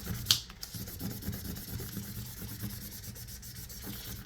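Printed pattern vinyl transfer burnished by hand on a toddler shirt, a steady soft scraping rub that continues for several seconds, close up, with one sharp tap near the start.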